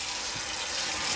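Hot water runs steadily from a kitchen tap while a grease-coated Ninja Foodi indoor grill part is rinsed, a continuous close hiss of flowing water without talk.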